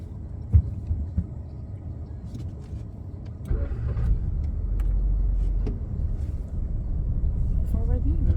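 A car idles in neutral during a driving lesson, a steady low engine rumble that swells a little louder partway through, with people talking over it at times.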